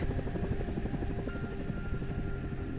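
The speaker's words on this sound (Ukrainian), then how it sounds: "Вертоліт Мі 8 намагався евакуювати пілота" A Mi-8 helicopter in flight, evacuating a pilot while under drone attack, gives a steady loud rotor drone with a continuous low rhythmic chop.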